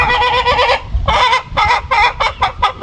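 A crested hen clucks and calls repeatedly up close, a series of short nasal squawks with brief gaps between them.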